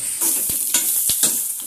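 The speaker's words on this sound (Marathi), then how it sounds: "कढईमध्ये तेल घ्यायचे आहे आणि त्यामध्ये कांदा टाकून घ्यायचा आहे आणि कांदा आपल्याला ब्राऊन करून भाजून घ्यायचा आहे" Onion frying in oil in a kadhai sizzles loudly and continuously, broken by several sharp scraping stirs of a spatula against the pan, close and without any voices.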